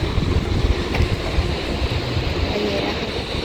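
A cool wind gusts steadily through a mountain village on a Himalayan trek route, a broad blustery roar buffeting the microphone continuously with no talking.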